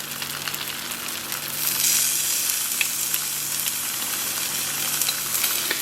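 Galangal sizzles in a hot pan for a Padang-style chicken turmeric-coconut curry, a steady close frying crackle with small pops and no voices.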